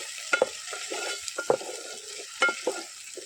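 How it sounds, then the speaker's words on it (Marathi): Ginger and garlic roasting in a pan as a quiet sizzle under repeated scraping stirs of a spatula, a few distinct knocks against the pan, close and without talk. "आला लसून ते बरी भाजून घेऊ"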